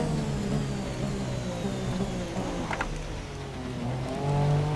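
A Formula 1 car engine in the video game F1 2017 drones at steady high revs during practice in Austria, a continuous buzzing whine that swells slightly louder near the end.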